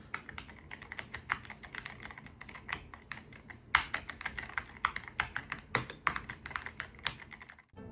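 Fast, continuous typing on a hot-swappable mechanical keyboard with four-layer foam dampening gives crisp, muted key clacks in a dense, uneven rhythm, close and alone with no voices.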